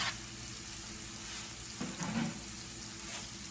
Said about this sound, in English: I'm about to add the mushrooms